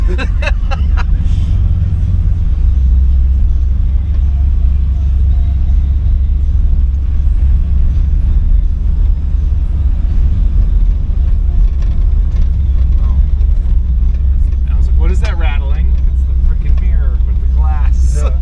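A 1991 Chevy G20 van with a solid axle, LS engine and 4L80E transmission driving, its loud, deep, steady engine and road rumble running throughout while people talk over it inside the cab.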